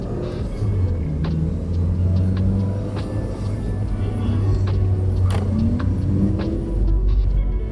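Mazda MX5 engine droning and rising in pitch during a drift session, a steady low rumble with shifting revs, heard from inside the car with faint road and tyre noise.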